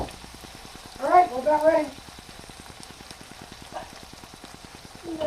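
Meat browns for spaghetti sauce in a pan, giving a steady, soft crackling sizzle throughout while someone briefly speaks over it near the start.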